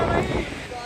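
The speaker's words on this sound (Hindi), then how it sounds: "ये दरिया कुनहार है" Water of the Kunhar River rushes and splashes close to the microphone in a brief, loud, broadband burst, roughened by wind noise.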